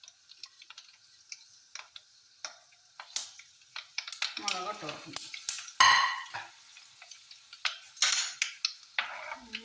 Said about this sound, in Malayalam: ഞാൻ ദേ കടുകും ഉലുവയൊക്കെ ഒന്ന് പൊട്ടിച്ചെടുക്കുന്നുണ്ട്